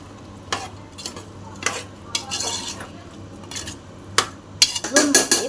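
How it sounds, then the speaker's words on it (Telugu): Mutton curry in a pot is stirred with a metal spoon, which gives sharp, irregular scrapes and clinks against the pot. A faint sizzle runs underneath, and a burst of quick clatters comes near the end. "మనం కూరని కలబెట్టుకోవాలి"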